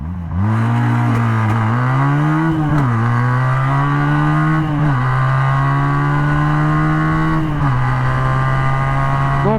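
A Regal Raptor Pilder 250cc motorcycle accelerates hard from a standstill in a 0-100 run, its loud engine rising in pitch through each gear with brief dips at the shifts and wind noise over the top.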